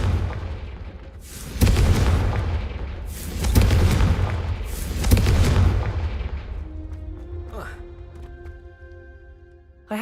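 Confringo fire spell blasts in Hogwarts Legacy: three loud, booming explosions roughly two seconds apart, each with a rumbling tail, followed by quieter magical shimmering tones.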